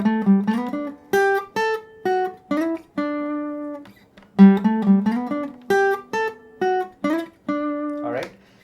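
A guitar picks a short riff of quick single notes from a song's intro, played twice with brief sustained notes between phrases, close and solo, ending with a scrape.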